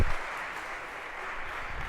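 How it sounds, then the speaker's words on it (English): Audience in a university computer science lecture hall applauding volunteers, a dense, steady patter of many hands clapping close by for about two seconds with no voices over it. "And a round of applause, if we could, for our volunteers."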